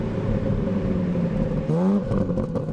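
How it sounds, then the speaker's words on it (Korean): A BMW M3 Touring engine and exhaust drone steadily, then swell in a brief rising rev before settling again, close and loud, with no voices. "단순히 엔진 소리, 배기 사운드 이런 것들이 데시벨만 높은 게 아니라"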